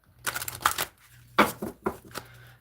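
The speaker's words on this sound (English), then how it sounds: "Shuffling for Gemini" A deck of tarot cards is shuffled by hand close by, giving several quick riffling bursts separated by short pauses, with no one speaking.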